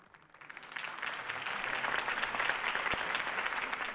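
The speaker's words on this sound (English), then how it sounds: "If only Mr. Wayne, my campaign's largest backer, could have heard that applause" Crowd applause following a campaign speech by Harvey Dent in a Batman Telltale video game scene; clapping swells in from a quiet start and settles into a steady, moderately loud wash of many hands.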